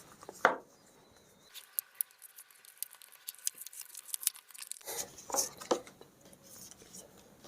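Packaging for a Slice credit card is torn open and unwrapped by hand. Sharp rips and crinkles come in bursts at the start and end, with a quieter stretch of faint rustling between them.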